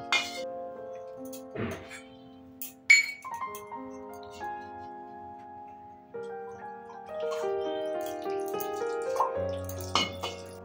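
Water poured from a small vessel onto a tulsi plant during a daily Baisakh puja, with light splashes and trickles mixed among clinks of metal ritual utensils and ringing tones, close and fairly quiet.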